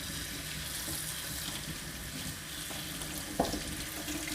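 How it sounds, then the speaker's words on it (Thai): Tap water gushes from a kitchen faucet over a bunch of grapes being rinsed in a sink, a continuous close, hissing splash with a brief clatter near the end. "เปิดน้ำในก๊อกแล้วก็ ให้น้ำไหลผ่านอย่างเงี้ยค่ะ"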